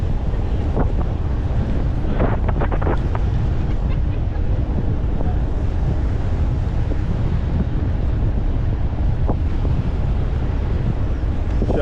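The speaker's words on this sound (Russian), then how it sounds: "Да, ветер, но теплый" Strong, warm wind in Crimea in April buffets the microphone in a constant low roar, with occasional gusty rumbles and no clear voices.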